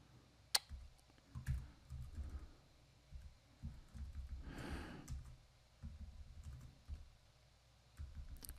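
Someone types on a computer keyboard during a live coding session, making faint, scattered key clicks in uneven bursts with occasional sharper taps against a low room hum.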